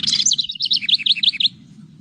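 House wren song played from a recording: a loud, close, rapid bubbling burst that runs into a fast series of high descending chirped notes, lasting about one and a half seconds over faint background hum.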